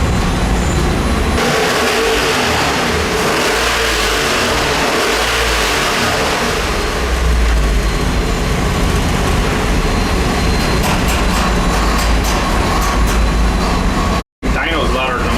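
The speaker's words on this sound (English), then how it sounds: "Dyno's louder than the motor, dude." A turbocharged 447 cubic inch LS V8 engine of about 1,100 horsepower roars steadily at high revs under heavy load on a dyno, loud and continuous, with a sharp cutoff near the end.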